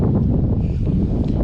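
Strong wind buffets the microphone outdoors on a homestead where ground is being broken, a loud continuous low rumble with gusting roar and no voices.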